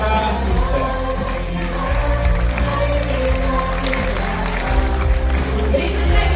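An audience applauds a women's vocal ensemble at a musical drama performance, a loud, steady crowd sound with clapping mixed in and some voices.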